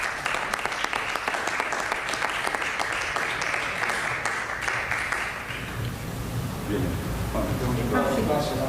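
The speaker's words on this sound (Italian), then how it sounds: "Un applauso potete farlo." Steady crowd applause at an Italian press briefing, continuous broadband clapping for about six seconds before fading as a voice begins talking.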